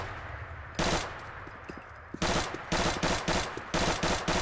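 Bursts of rapid automatic gunfire from an unmodified weapon in Fallout 4: a short volley, a pause, then several quick, loud strings of shots in close succession, with no talking over them.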